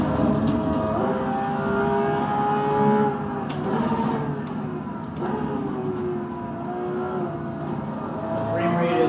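A race car engine roars in the Assetto Corsa EVO racing game as a sustained, loud drone whose pitch rises and falls with the throttle. The sound continues steadily throughout.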